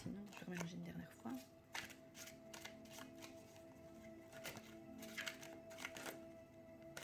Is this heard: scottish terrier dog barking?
no